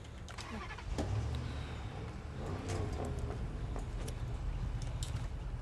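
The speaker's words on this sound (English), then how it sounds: "Let me start the engine again." A Burlak 6x6 truck engine starts in the SnowRunner video game, heard as a steady, dense mechanical rumble with a brief cranking surge near the start. The engine is close and runs continuously.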